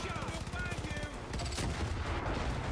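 Rapid automatic gunfire in the Far Cry 5 video game, a dense bursting clatter of shots that continues throughout, loud and close with a voice speaking underneath.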